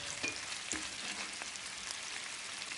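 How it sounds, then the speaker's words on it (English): Food frying in a pan, a close crackling sizzle with a few quick spoon scrapes and taps as it gets a brief stir, no speech. "Quick stir."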